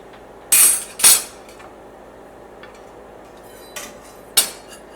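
A knife cutting a green papaya in half, with a few sharp, bright knocks and clacks of the blade on the board, two close together and two more later, against quiet background.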